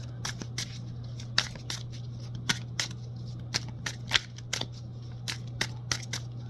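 Tarot cards being drawn and handled from a deck, a series of crisp, close card snaps and flicks at an irregular rhythm over a steady low hum, with no talking.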